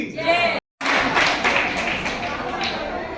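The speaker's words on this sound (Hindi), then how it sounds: "तो तालियों में शक्ति है" A crowd claps together in a loud, dense burst of applause at a yoga institute's anniversary celebration, cut by a brief silent gap, with voices mixed in throughout.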